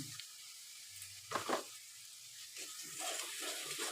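Turmeric and ground spices with a splash of water sautéing in a pan for a fish curry, a faint low sizzle with a brief louder burst of stirring and a few soft scrapes, no talk.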